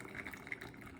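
Water poured slowly from a kettle over coffee grounds for a pour-over, a soft, faint, steady trickle in a quiet room.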